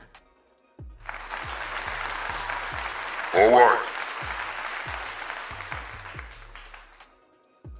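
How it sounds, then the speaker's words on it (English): Applause from a group of people runs steadily for several seconds, with low thumps beneath it and a brief louder burst midway; a voice speaks briefly. "I want to give them a clap right now, everybody."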